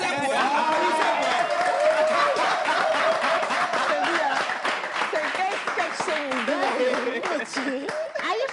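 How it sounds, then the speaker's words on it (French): Audience applause and scattered laughter fill a small comedy show, steady clapping running throughout with voices and chuckles mixed in. "applaudissez pour elle"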